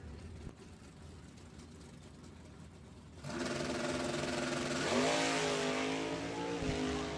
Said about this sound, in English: Nice looking wheels up launch